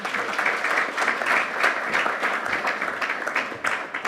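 Audience applause at a tax justice conference, a dense, steady wash of many hands clapping for several seconds with no talk over it.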